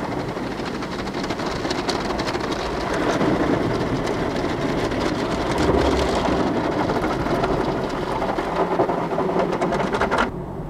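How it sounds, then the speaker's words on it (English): An automatic car wash sprays water over a car, heard from inside the vehicle as a dense, steady hiss and drumming rumble that continues at an even level throughout. "You are now ready to enter the car wash."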